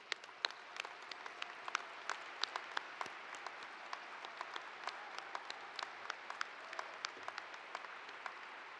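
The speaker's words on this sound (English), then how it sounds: "So we can give you a round of applause." Audience applause for students at an MLK Day university convocation, steady dense clapping from a large crowd that holds for nearly nine seconds, fairly distant and even.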